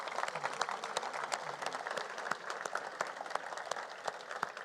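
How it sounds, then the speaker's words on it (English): Luncheon guests at the Borlaug Dialogue laureate keynote give a round of applause for Mashal, a continuous patter of many hands at moderate volume, without voices. "can we have a round of applause for Mashal?"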